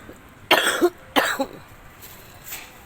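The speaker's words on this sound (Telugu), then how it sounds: "దగ్గులు" Two sharp coughs in quick succession, close by, followed after a pause by a fainter third cough.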